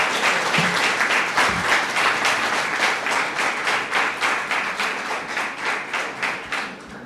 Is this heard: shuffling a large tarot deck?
no